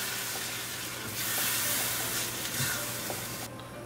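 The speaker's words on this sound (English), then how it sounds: "We're going to mix it well." Coconut sooji badam halwa with sugar and milk is stirred in a hot pan, giving a steady bright sizzling hiss with soft scraping and bubbling, close and continuous, no talk.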